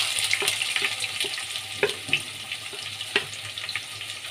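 Three large sliced onions fry in hot oil for a Kashmiri chicken masala, giving a steady close sizzle with occasional stirring clinks and pops.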